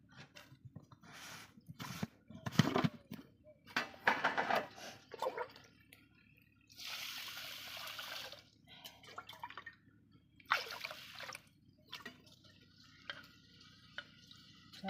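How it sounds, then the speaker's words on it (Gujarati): Raw rice being washed by hand in water, with splashing, swishing bursts and drips coming in irregular waves, close and moderately loud, and separated by short quiet gaps. "આ રીતે આપણે ચોખાને ધોઈ અને સારી રીતે ધોઈ નાખવાના છે સારા"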